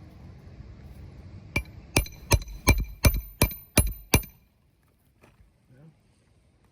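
A nail is hammered into roofing with about eight sharp, evenly spaced metal strikes, loud and close, which then stop and leave near silence.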